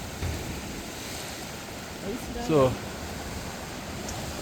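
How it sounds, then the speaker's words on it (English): Waves crash against a rocky fishing shoreline in a steady, broad roar with a slight swell midway, and someone briefly speaks over it. "Water banging right now."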